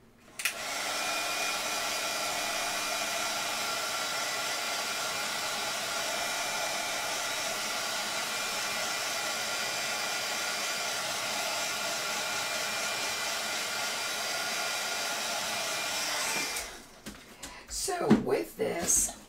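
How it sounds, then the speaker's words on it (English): A heat gun blows steadily while heating embossing powder for an inky emboss-resist background. The loud, even roar runs unbroken for about sixteen seconds, then cuts off and is followed by brief handling clatter. "if the heat gun bothers you,"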